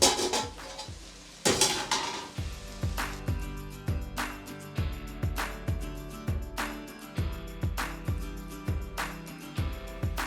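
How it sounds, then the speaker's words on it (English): A spoon stirs cabbage in a metal pot with steady, rhythmic clanks and scrapes against the sides, roughly two strikes a second, close and fairly loud, with a faint sizzle underneath. "Then I want to stir my cabbage."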